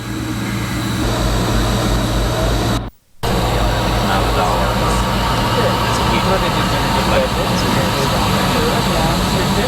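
Airplane engines roar steadily and loudly through a takeoff run, a constant jet-like drone heard from inside the cabin with a brief cutout partway through.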